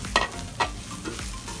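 Green chillies and spice powders sautéing in a pan for a Kerala-style chicken curry: a soft steady sizzle with a couple of sharp spoon scrapes against the pan.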